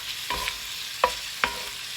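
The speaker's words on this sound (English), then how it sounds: "Now that we've kind of got that sear started here." Meat sears in a hot pan with a soft, constant sizzle broken by three sharp scrapes or taps of a utensil.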